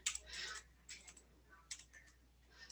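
Light typing on a computer keyboard while entering data in Excel, a few faint, scattered clusters of soft key clicks close by.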